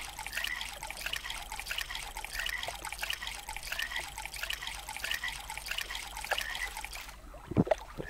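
Water trickles steadily in the Survive the Wild audio game, a continuous bright dribbling with rhythmic splashes that cuts off near the end, followed by a brief thud.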